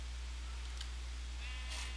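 A sheep in the video game Minecraft gives a couple of short, faint bleats against a quiet, steady background hum.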